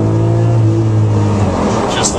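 An orange 2008 Lamborghini Murcielago LP640 V12 revs loudly up close for a couple of seconds, a steady deep engine drone that fades toward the end.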